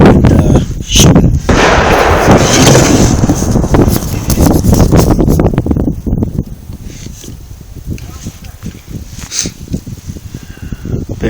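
Gunshots ring out at an indoor shooting range, a rapid series of sharp, loud reports with echoing tails, dense at first and then more spaced out, with wind-like rumble around them.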